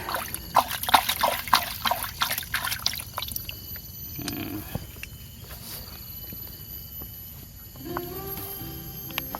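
Water is poured along with twenty pomfret fish into a pond, making a close, splashy trickle and a cluster of sharp splashes early on, then a fainter dribble with a few scattered drips.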